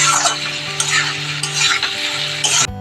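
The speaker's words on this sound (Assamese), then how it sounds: "ধুনীয়াকৈ লাৰি দিম আলুখিনিও আগতে মই ভাজি লৈছোঁ ধুনীয়াকৈ" Fried potatoes and eggs stirred together in a hot pan, a loud steady sizzle with repeated scraping strokes of the utensil, close up and without talk, ending abruptly.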